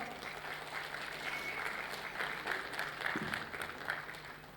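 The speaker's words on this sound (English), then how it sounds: "give a huge round of applause for SR Educare Group" Audience applause at a school annual day celebration, a sustained wash of many hands clapping from a distant crowd, fairly faint and steady throughout.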